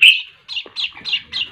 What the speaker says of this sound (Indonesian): Ini anak burung manyar ada 3 ekor.